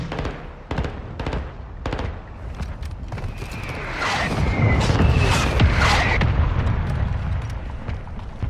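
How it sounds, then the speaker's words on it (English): Mortar strike explosions in Warzone 2 gameplay, a series of sharp detonations followed by a whistling streak and a heavy rumbling blast that swells and lingers, loud and close. "Hostile mortar strike incoming."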